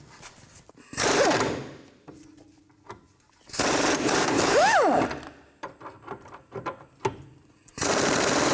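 An impact wrench with an 18mm socket drives out a rear shock bolt on a 2007-12 Nissan Altima, loud rattling bursts of a few seconds each separated by quieter pauses and small clicks.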